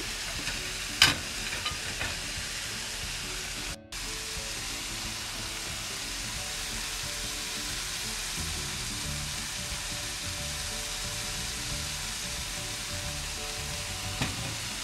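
A covered pan of bottle gourd and leftover rotisserie chicken with fish sauce simmers with a steady soft hiss and faint bubbling, continuous and close, with one brief bump near the start.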